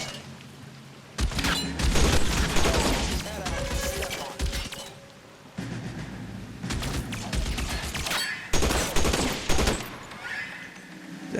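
Bursts of gunfire from windows in the video game L.A. Noire, several loud clusters of shots separated by quieter gaps, mixed with other game sounds.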